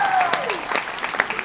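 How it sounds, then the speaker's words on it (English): Dense applause from an audience at a community Rooster Booster event in Owensboro, fairly loud and steady for the whole moment, with a brief whistle-like tone sliding downward near the start. "Give them a round of applause."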